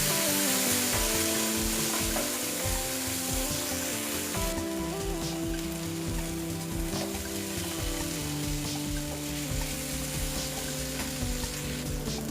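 Fried chicken for Chicken 65 sizzles in a pan with red chilli sauce, giving a close, steady frying crackle, with stirring scrapes and soft clatter throughout.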